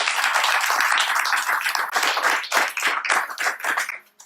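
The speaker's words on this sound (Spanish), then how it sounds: "Un aplauso al Señor." A church congregation claps loudly in a dense, steady burst of many hands, then the clapping thins into uneven, separate claps before stopping abruptly.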